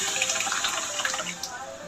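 Liquid pours into a pan of tempering in a home kitchen while cooking a tiffin dish, a soft, continuous splashing hiss at moderate distance with faint clinks.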